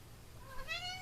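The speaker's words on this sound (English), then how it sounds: "That's my cat again." A house cat meows once indoors, a rising-then-falling cry that swells near the end of the short stretch, fairly close and alone against faint room hum.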